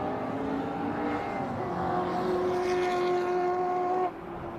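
An MG race car engine drones steadily on a club racing circuit, holding a strong, fairly constant pitch with a slight rise before the level drops suddenly near the end.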